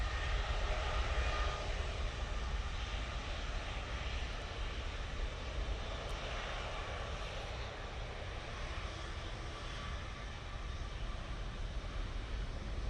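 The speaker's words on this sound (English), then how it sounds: "Couple of departures down Victor Bravo ready to go out. Got the British Airways going to London, mate. Ryanair 737-800 behind that." A Ryanair Boeing 737-800 departing Manchester Airport gives a steady, broad jet engine roar that holds evenly at a distance for the whole stretch, with no voices.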